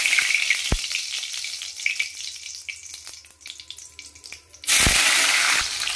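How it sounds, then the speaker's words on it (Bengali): Spices and garlic frying in hot oil for a Bengali tempering, a steady close sizzle with small crackles, then a sudden louder burst of hissing as more goes into the pan near the end. "ফোড়ন দিলাম, তারপর দেবো হচ্ছে গিয়ে তোমার রসুন একটুখানি"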